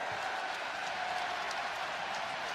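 A crowd at an Illinois vs UCLA basketball game cheers and claps steadily, a dense wash of sound heard from far back in the arena, fairly faint and with no clear voices on top.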